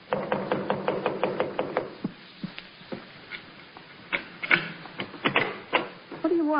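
A locked door is tried by hand, giving a quick run of sharp mechanical rattles and knocks from the handle and latch, then a few louder scattered clunks, close and alone.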